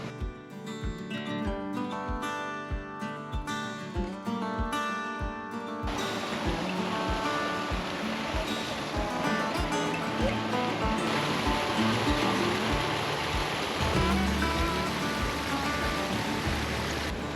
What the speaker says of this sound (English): we are at the Cascades